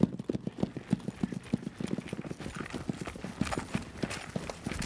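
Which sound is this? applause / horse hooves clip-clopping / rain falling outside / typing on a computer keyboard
horse hooves clip-clopping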